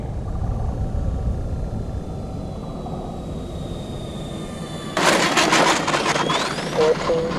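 A C-130's engines roar in a steady, loud drone during touch and go flights, heard from inside, with a sharp surge in power partway through and a brief voice under the noise.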